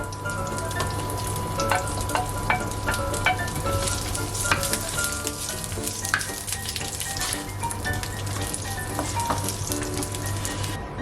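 Meat sizzling and being stirred in a hot pan at the start of a stir-fried rice cake dish, a steady loud crackle with frequent scraping stir strokes throughout.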